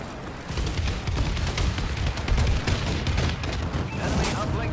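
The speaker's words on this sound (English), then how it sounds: "Friendly bombing run incoming" Friendly bombing run explosions in Call of Duty Advanced Warfare during grapple playlist gameplay: a rolling barrage of loud booms and dense blasts, continuous and heavy from start to finish.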